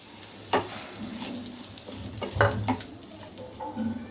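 Soaked, washed lentils are stirred into onions fried until red, giving a soft sizzle with several scraping stirs and clattering spatula strokes; quiet and close, with no talking.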